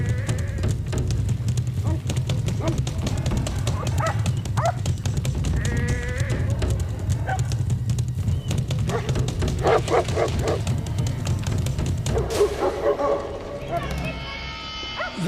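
Several livestock guardian dogs bark repeatedly and urgently at a bear amid bleating sheep, a busy, overlapping chorus that thins out toward the end.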